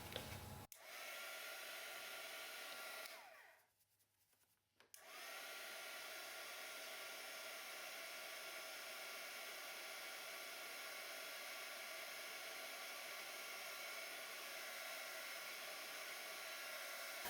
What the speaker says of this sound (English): I'm going to heat this up with the heat tool